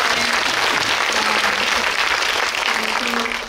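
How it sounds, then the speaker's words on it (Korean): Audience clapping steadily after an actor's remarks at a guest-visit screening of the film The Moon, dense and sustained throughout with a faint tonal hum underneath. "박수 한번."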